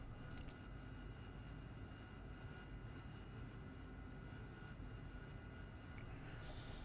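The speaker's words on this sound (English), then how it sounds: "using the nozzle steering high gain, we can now taxi back to our parking spot" An AV-8B Harrier taxis in DCS World with a faint, steady jet engine whine and rumble that holds constant throughout.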